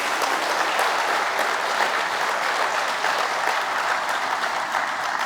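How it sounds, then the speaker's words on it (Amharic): An audience applauds steadily and densely at a mission training gathering in Ethiopia, a continuous wash of many hands clapping at even loudness throughout. "አጨብጭቡላቸው።"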